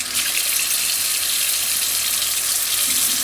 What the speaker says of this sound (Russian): Вот этой температурой воды будем промывать орхидеи.